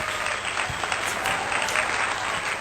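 Animals clap their hands in a children's story, a steady wash of applause running evenly throughout at moderate level, with no voices over it.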